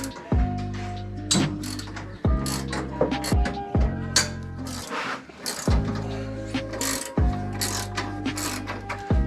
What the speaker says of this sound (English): The first thing I do is loosen this bar.